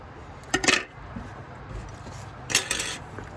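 Metal cutlery clinks and scrapes against a plate while a grilled pork chop is cut, two short bursts of clatter close by with quiet pauses between.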